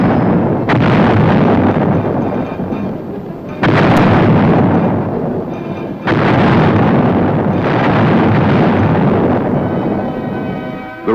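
Heavy artillery blasts from self-propelled 155mm howitzers, several loud booming reports with long rolling rumbles, each one fading before the next shot lands.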